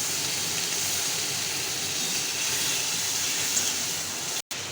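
Water poured into a hot pan while cooking potol chingri dorma sets off a loud, steady sizzling hiss that stays broad and even throughout, with a brief dropout near the end.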